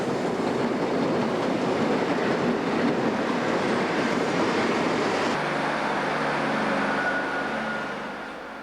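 A Class 158 diesel multiple unit passes on a British railway in 1991, a loud steady roar of engine and wheels on rail that holds for several seconds and then eases off as the train draws away.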